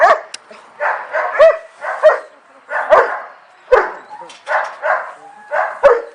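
A search and rescue dog, trained for disaster work with a city fire department, barks close and loud in a steady series of about eight sharp barks with short pauses between them.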